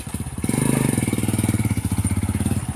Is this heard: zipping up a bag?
no